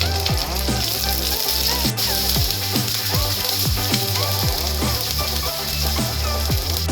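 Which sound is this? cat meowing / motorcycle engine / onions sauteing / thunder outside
onions sauteing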